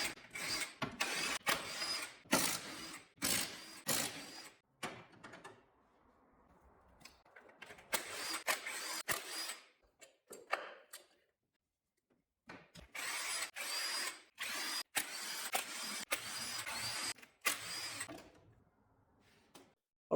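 A power tool buzzes in repeated short bursts, separated by brief pauses, as it backs out engine valve cover bolts during valve cover removal, with quiet gaps and faint handling noise between the runs.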